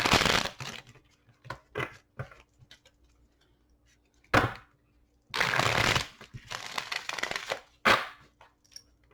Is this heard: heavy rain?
no